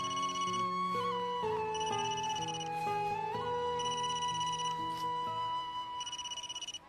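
A mobile phone ringtone plays a steady, loud electronic melody of repeating tones, continuous for the whole stretch with no voices over it.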